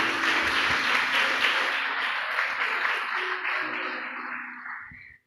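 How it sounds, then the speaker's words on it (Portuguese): A church congregation at an evening service claps loudly and continuously, a dense roomful of hands that gradually thins and fades to silence at the end, with no speech over it. "Você pode aplaudir ao Senhor."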